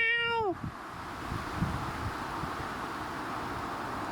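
A cat answers a call outdoors in a garden with one clear, drawn-out meow up close, then wind noise and faint rustling.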